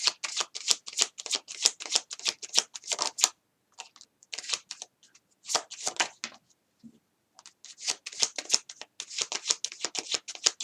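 Tarot cards are shuffled in rapid bursts of crisp riffling and slapping, pausing briefly before picking up again, close and alone with no talking.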